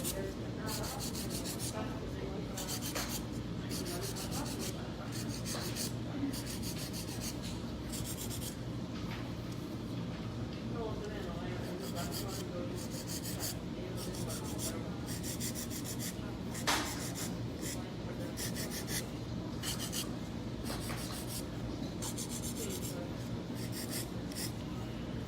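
Stiletto nails filed with an 80/80 grit nail file, a continuous close scratchy rubbing in repeated strokes, with soft voices in the background.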